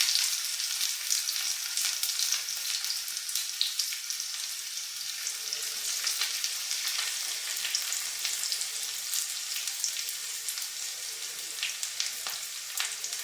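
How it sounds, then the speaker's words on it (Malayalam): Shallots, dried red chillies, mustard seeds and curry leaves fry in hot coconut oil, giving a continuous crackling sizzle with small pops, close and steady, with no talking. "ആവശ്യത്തിന് കറിവേപ്പില, ഇതെല്ലാം കൂടി നമുക്കൊന്ന് മൂപ്പിച്ചെടുക്കാം."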